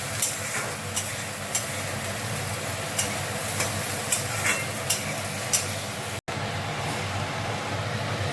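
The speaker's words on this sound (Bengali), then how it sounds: "এই দেখুন মশলাটা কত সুন্দর ভাজা হয়ে গেছে, পুরো তেল ছেড়ে দিয়েছে।" Spice masala of tomato, cumin and coriander powder fries in oil, a soft sizzle broken by regular scraping stir strokes roughly every half second, close by, with a momentary dropout late on.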